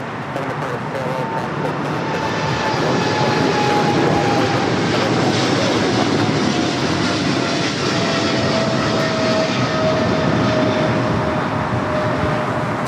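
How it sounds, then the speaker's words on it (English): A Korean Air Cargo Boeing 777 freighter, flight 8208 bound for Seoul, takes off from LAX. Its loud, sustained engine roar carries a high whine that slowly glides down in pitch. "This is Korean Air Cargo 8208 taking off to Seoul on the 777 freighter."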